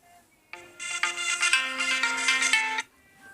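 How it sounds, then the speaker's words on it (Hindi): A mobile phone rings with a melodic ringtone for an incoming forwarded call, a bright repeating tune lasting about two seconds at moderate volume, heard alone in a quiet room. "जबकि हमारे बच्चे का फ़ोन ये वाला है एंड कॉल हमारे वाले फ़ोन पे आ गया है"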